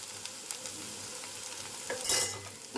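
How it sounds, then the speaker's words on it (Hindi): Red chili powder, turmeric and coriander powder fry quietly in a home cooking pan, giving a soft, steady sizzle with light stirring and one brief louder hiss near the end. "एंड हम इन मसालों को थोड़ा सा पका लेंगे।"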